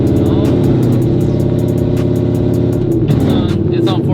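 A Corvette engine hums loudly and steadily from inside the car while it shifts gears, a continuous mid-pitched drone with faint clicks and rattles, no sharp revs standing out.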